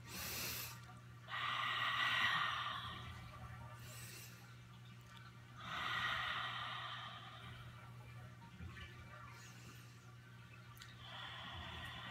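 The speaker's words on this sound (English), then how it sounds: "So 3 cleansing breath." Three slow, deep cleansing breaths during a meditation session, each a long airy inhale or exhale separated by quiet pauses over a low steady hum, close and soft.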